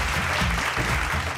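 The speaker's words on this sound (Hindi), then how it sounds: "जोरदार ताली के साथ स्वागत करी" Studio audience applause welcoming a contestant onto a TV show stage: dense, steady clapping that fills the whole moment at an even loudness, with no voices standing out.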